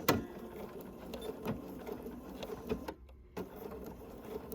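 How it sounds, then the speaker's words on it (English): A sewing machine stitches a 1930s-style sampler spool quilt block, then back stitches: close rapid mechanical whirring in short bursts with a brief pause, fairly quiet, no speech. "We're going to make a couple stitches and then back stitch just a few."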